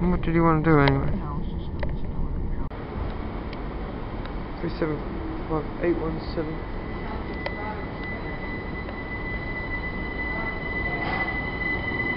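A train rumbles steadily along the rails with a dense rolling clatter, while people talk briefly at the start and faint voices come and go.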